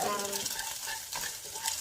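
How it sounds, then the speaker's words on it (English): Egg mashed and frying in a pan while a utensil stirs and scrapes, giving a steady sizzle with brief scraping strokes, close and alone. "make sure that you mash it, really well in the frying pan"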